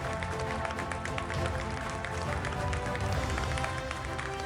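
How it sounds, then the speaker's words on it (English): Audience applause fills the hall at a felicitation ceremony during a directors' conclave, a dense, steady wash of many hands clapping continuously with crowd murmur underneath. "Please keep the applause going"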